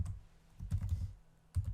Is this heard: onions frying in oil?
no